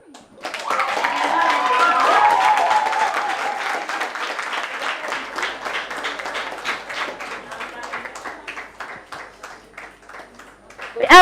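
A school debate academy audience applauds a storytelling runner-up walking up to collect a certificate, the dense clapping swelling early, then thinning into looser, more distinct claps before a final loud burst at the end.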